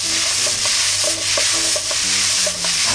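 Cut green onions stirred and sizzling in butter in a frying pan, a loud steady fry with rhythmic scraping stirs repeating throughout.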